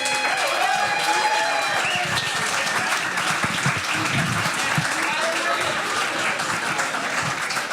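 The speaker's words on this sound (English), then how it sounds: "can we please get a huge round of applause for our 4 judges tonight?" An audience applauds the judges at a music video jam event: sustained, full clapping with crowd noise and cheers, and voices can be heard through it.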